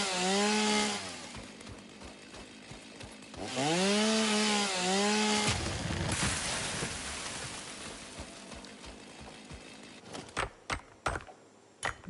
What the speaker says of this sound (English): from just the chainsaw